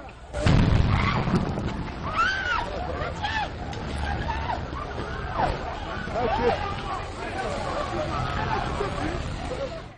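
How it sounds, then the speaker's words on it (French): A gas depot explosion in the Mimboman district of Yaoundé, heard as a loud blast at the start followed by sustained rumbling noise with crowd voices and commotion throughout. "Une première explosion."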